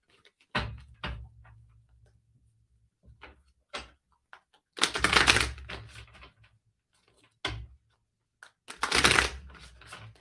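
Bulky tarot cards being shuffled by hand, several separate bursts of riffling and slapping with quiet gaps between, close and fairly loud.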